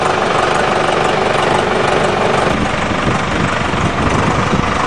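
Oldsmobile engine running with the exhaust Y pipe cut off, a loud, raw, continuous rumbling drone from an open exhaust, steady throughout without talk.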